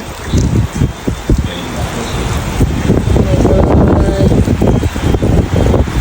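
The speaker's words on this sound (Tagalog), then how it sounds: "Super lakas po ng hangin at start naman ng ulan at super dilim sa labas" Strong wind roars and gusts continuously during a storm in Dubai, with rain and rustling mixed in and a brief voice early on, heard from inside a house under a very dark sky.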